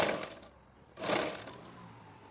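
A sewing machine runs a second line of stitching along a blouse seam in two short bursts, close and fairly quiet, with a pause between runs.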